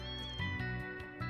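Cats meow softly in a video game, faint short mews sitting under steady background music and ambience.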